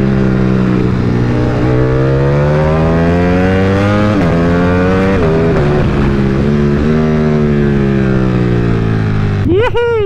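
Ducati Panigale V4S superbike with a 1,103cc engine roars loud and close, its harmonic pitch climbing and falling through repeated gear changes, with a sharp rev spike near the end.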